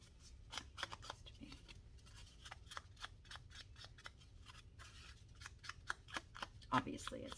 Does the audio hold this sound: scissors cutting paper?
yes